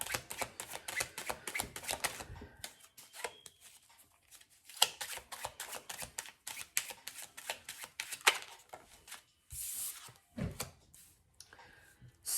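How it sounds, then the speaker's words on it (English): A deck of affirmation cards is shuffled by hand, with quick bursts of flicking, riffling card snaps and softer handling noises and pauses between them, close up and without talk. "I'm gonna pull one affirmation card"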